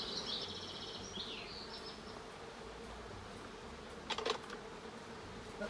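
A steady, low drone of buzzing honeybees at an apiary fills the background, with a brief faint clicking partway through.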